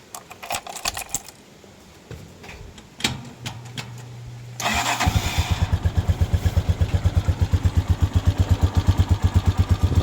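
A Rusi 175 motorcycle engine, freshly oil-changed and tuned up, is started after some metallic clinks and a brief whirr, then settles into a steady, rhythmic idle close to the microphone.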